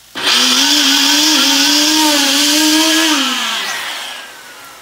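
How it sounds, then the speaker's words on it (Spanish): A blender whirs loudly as it purees an avocado sauce, starting abruptly, holding a steady high whine for about three seconds, then winding down. "Y vamos a proceder a licuar nuestra salsa."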